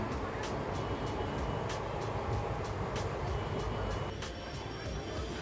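A train runs on after leaving Prantik station, giving a steady low rumble with faint rhythmic clicks from the track, heard from inside the carriage.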